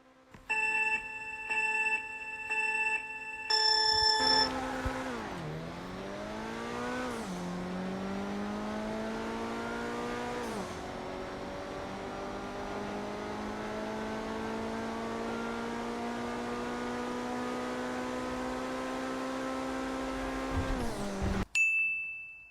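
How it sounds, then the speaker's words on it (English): A Coquette D10 sports car in GTA Online launches down a drag strip, its engine screaming up through repeated gear changes in a loud, sustained rising whine, preceded by countdown beeps and ending with a sharp cutoff. "now let's see how well the Coquette D10 does against this car"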